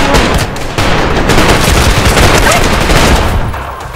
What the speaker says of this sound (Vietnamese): Ngoài này nó bắn vô, ngoài đây nó bắn vô.